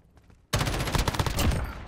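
An M13 assault rifle in Modern Warfare opens up after a brief quiet, firing a loud, rapid automatic burst that continues steadily to the end, close and dominant.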